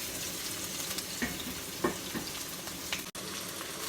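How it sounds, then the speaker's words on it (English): Onion, garlic, ginger and pepper sizzle and fry in a hot pan for a sinigang dish, a steady close crackle with a few louder pops and stirring sounds. "when it gets hot, we're now going to put our onion, garlic, ginger, and pepper"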